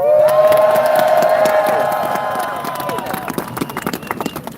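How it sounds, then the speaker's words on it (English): Loud crowd at a street protest cheering and applauding for a speaker, with sustained shouts and whoops ringing out at first, then fading into scattered clapping and voices. "So please give her a round of applause."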